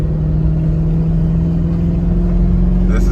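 A turbocharged Ford Crown Victoria runs at around 2,500 RPM, a steady loud engine drone with a constant low hum, building faint turbo whine near the end.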